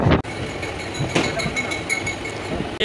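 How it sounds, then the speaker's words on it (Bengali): A passenger train pulls out of Belur station on an Indian railway line, with a rumbling, rattling roll and scattered metallic clanks and knocks from the carriages close by. "ট্রেন ছেড়ে দিল বেলুর থেকে"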